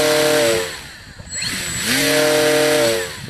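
An RC plane's electric motor and propeller run while the aircraft sits broken and still plugged in. The sound is a loud, close, buzzing whine that dips briefly near the middle, then ramps back up and holds steady.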